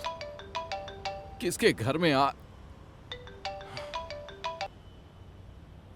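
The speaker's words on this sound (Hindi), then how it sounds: "तुम्हारा फोन बज रहा है।" Mobile phone ringtone of repeated electronic melodic tones in two bursts, broken by a short loud swish, with voices talking around it.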